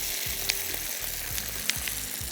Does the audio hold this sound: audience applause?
no